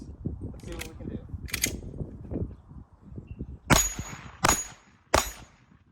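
Three sharp pistol shots from a SIG P320 strike a 10-inch steel gong at 7 yards, each a loud metallic clang with a bright ringing tail, spaced under a second apart, following a stretch of low talking and handling noise.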